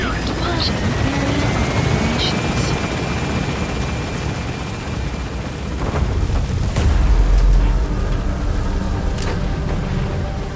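A helicopter in Metal Gear Solid V: The Phantom Pain lifts off and flies away, with a loud, steady rotor roar throughout and radio voices talking over it.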